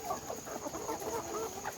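Chickens nearly two months old on a poultry farm: a busy, continuous chorus of overlapping clucks and murmurs from many birds close by, moderately quiet.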